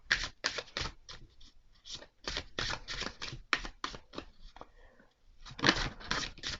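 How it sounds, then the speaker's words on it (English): A deck of oracle cards is shuffled by hand in quick bursts of crisp riffling flutters, each run of cards snapping together close to the microphone, with brief pauses between rounds and a final flurry at the end. "I'm going to shuffle this."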